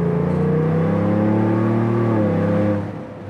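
A Ford Bronco with an upgraded exhaust idles and rises in a deep, steady rumble close by, the low throb shifting pitch slightly before easing off near the end.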